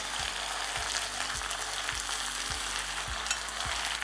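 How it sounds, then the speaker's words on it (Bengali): Sliced potatoes and thinly cut onions fry in hot oil in a pan while being cooking for a spicy small-fish curry, a steady close sizzle broken by regular scraping stirs of a spatula roughly every half second. "আলুটা দেওয়ার পরে এটাকে ভালো করে একটু ভেজে নিন।"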